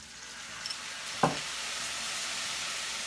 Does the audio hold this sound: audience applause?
no